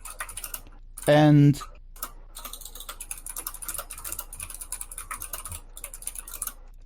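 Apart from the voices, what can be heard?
typing on a computer keyboard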